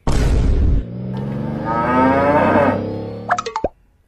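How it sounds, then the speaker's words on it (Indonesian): Limousin cattle moo loudly and close, one long drawn-out low call lasting a few seconds, followed by a couple of short snorting grunts before silence. "pernah dengar tidak tentang sapi limosin?"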